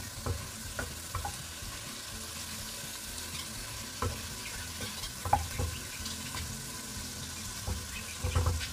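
Peppers and onions stir-fry in a pan for an eggplant dish, a steady low sizzle with scattered clicks and scrapes of stirring throughout, louder toward the end.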